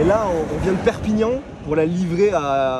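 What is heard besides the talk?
No distinct noise like a dog, phone or traffic.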